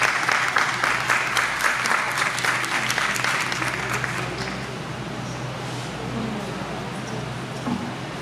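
An audience at a Hindi book launch for the poem 'Ae Mere Watan' claps loudly and densely for about four seconds, then the applause thins and fades into room murmur.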